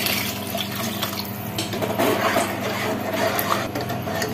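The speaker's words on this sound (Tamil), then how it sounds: "நம்ம குழம்புக்கு தேவையான தண்ணி ஊற்றிக்கலாங்க." Water poured into a pot of banana flower dumpling curry (kulambu) with tamarind while cooking, a steady close splashing stream running for the whole stretch.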